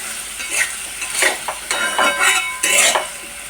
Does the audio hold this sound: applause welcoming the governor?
no